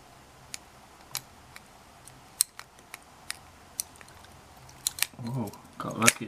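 A US military padlock is worked with a pocket-knife-style lock pick set and a tension wrench, producing sparse, faint metallic ticks and clicks that end in a busier burst of rattling, with a voice speaking briefly near the end.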